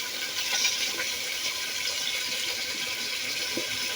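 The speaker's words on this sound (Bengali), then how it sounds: "একটু পানি দিয়ে দিচ্ছি" Water is poured into a cooking pot over large cut tomato pieces, giving a steady, close splashing gush that lasts throughout.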